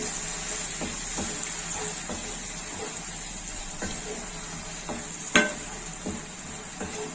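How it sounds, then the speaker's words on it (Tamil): Gentle bubbling and sizzling of tomato masala with water in a pan, a continuous soft simmer with occasional light clinks of a utensil. "சேர்த்துட்டு ஒரு 5 நிமிஷம் கொதிக்கட்டும்."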